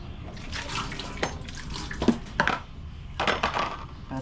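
An item being washed under running water, with splashing, trickling and a few clinks of dishes or utensils knocking together, close by and without talk.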